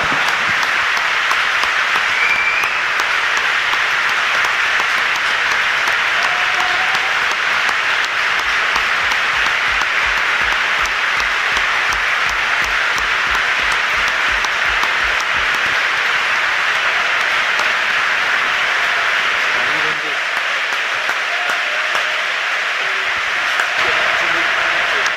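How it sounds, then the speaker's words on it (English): Stadium crowd at a Brighton football match applauding in tribute before kick-off, a steady, sustained wash of clapping from a large crowd heard at a distance, continuing for the whole stretch with faint murmurs underneath. "You can hear the PA announcer just announcing a moment's applause in tribute to the former Seagulls gaffer Mike Bailey."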